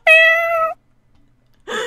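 A cat in the video game Cat Simulator lets out a loud, clear, tonal meow, followed after a short silence by the start of a second meow.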